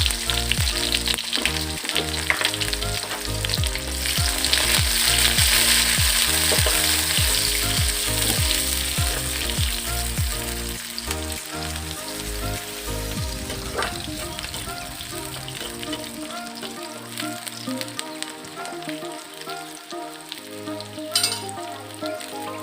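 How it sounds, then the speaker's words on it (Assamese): Whole cumin seeds and onions fry in hot oil in a pan, a loud, steady close-up sizzle and crackle throughout, with occasional stirring and clinks of a utensil and no voices. "তেল গৰম হয়, দুটামান গোটা জিৰা দিছোঁ, পিঁয়াজ দি দিছোঁ"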